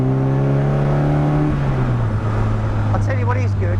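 An Indy RX-5 160 race car engine revving, a strong steady rev that holds, then drops and settles to idle, loud and close, with brief high squeaks near the end.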